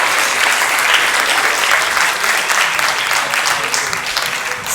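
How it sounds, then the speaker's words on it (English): A crowd gives sustained, loud applause to the Thunder Bay Rainy River candidates at a political forum, a dense, even clapping that slowly tapers off near the end. "Let's give another round of applause to the candidates for Thunder Bay Rainy River."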